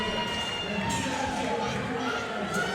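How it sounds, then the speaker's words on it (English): Spectators at a USPA drug-tested national powerlifting championship cheer and shout loudly for a deadlifter, a continuous wall of crowd noise with voices heard among it. "We hear John's cheering crowd going crazy."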